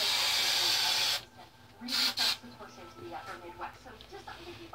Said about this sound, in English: I use hairspray because it's cool.